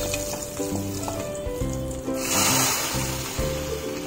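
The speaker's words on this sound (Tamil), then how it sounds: "நான் கடுகு, அதுக்கப்புறம் காஞ்ச மிளகாய் ஒன்று தாளிச்சிக்கிறேன்." Mustard seeds and a dried red chilli temper in hot oil in a kadai for idli sambar. A sizzling hiss swells into a brief burst of spattering crackle midway, with steady background music throughout.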